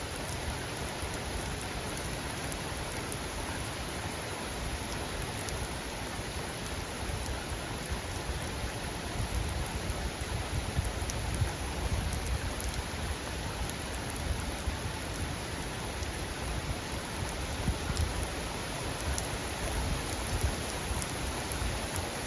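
Heavy rain pours down steadily during a severe summer thunderstorm, a dense, continuous hiss of drops hitting surfaces close by, with no thunder or voices standing out.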